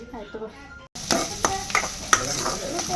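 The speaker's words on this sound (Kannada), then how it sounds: "ಬೆಳ್ಳುಳ್ಳಿ ಒಗ್ಗರಣೆ ಕೊಟ್ಬಿಡುವ" Garlic tempering sizzles and crackles in hot oil in a home kitchen, with sharp pops and stirring scrapes following a brief quiet gap, after some faint speech at the start.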